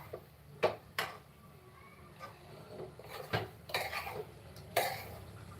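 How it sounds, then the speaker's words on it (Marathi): Vegetables are stir-fried in a pan in a home kitchen: faint, scattered clinks and scrapes of a utensil against metal come at an irregular pace over a quiet background. "मी जरा ही भाजी परतून"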